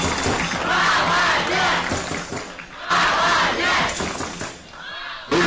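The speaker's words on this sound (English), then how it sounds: "a big round of applause for both finalists here" A crowd cheers and shouts loudly for the two finalists at a European youth and cadet fencing championship final in Patras. The roar is dense and sustained, surging again midway through without a break.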